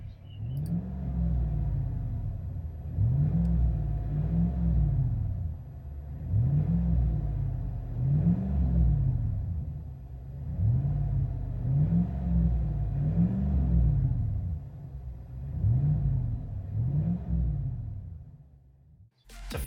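2020 Chevy Silverado with a 6.2 V8 and Street Demon true dual exhaust revs in a steady series of paired blips, each a deep rumbling rise and fall, close and strong, with short idle gaps between.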